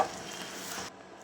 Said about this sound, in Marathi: ह्याच्यात आता आपण हे बटाटे असे कुस करून घेऊया। हे सगळे आपण आता छानपैकी मिक्स करून घेऊ।